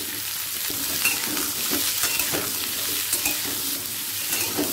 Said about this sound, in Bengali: 5 ফোড়নের সাথে ভালো করে মিশিয়ে নিলাম।